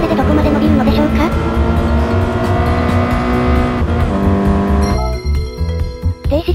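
Toyota 86 GRMN in Gran Turismo Sport accelerating at full throttle from a standing start through the gears, a loud steady engine note with upshifts, ending in a change of sound near the end.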